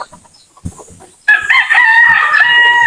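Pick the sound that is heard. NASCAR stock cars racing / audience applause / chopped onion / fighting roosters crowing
fighting roosters crowing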